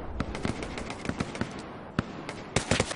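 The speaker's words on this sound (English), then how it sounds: "Shoot once for yes, twice for no." Repeated gunshots from a Hell Let Loose battlefield, sharp cracks scattered irregularly through the clip with a few close together, loud over steady background game noise, no talk.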